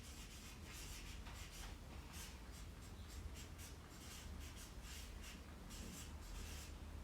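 A pink colored pen writes a grammar exercise on paper, making faint, close scratching and rubbing strokes in quick repeated bursts with no talking.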